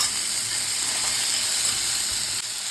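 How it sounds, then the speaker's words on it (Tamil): Onion, garlic, ginger and green chillies frying in oil in a pan for cabbage chutney, a loud, dense, unbroken sizzle that stays close and steady throughout, with no talking. "இப்போ இதெல்லாம் ஃப்ரை ஆகட்டும்."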